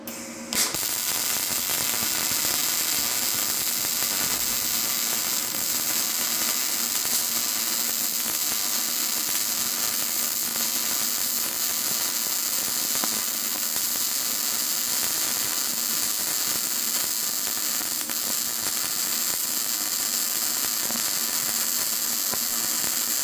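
A YesWelder DP200 multi-process welder lays a vertical pass with a steady, loud, continuous hiss and crackle that holds from just after the start to the end.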